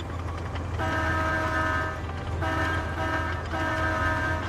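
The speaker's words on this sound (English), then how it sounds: "Sounds like a train." Three sustained, chord-like train horn blasts in the video game Roadcraft, each roughly a second long with short gaps, sounding loud over a steady low engine rumble.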